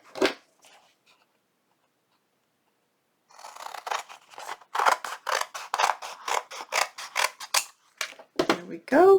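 Scissors snip through paper for a junk journal project made with napkins, a run of crisp close cuts in steady rhythm after a short snip and a pause, with a voice briefly heard at the end.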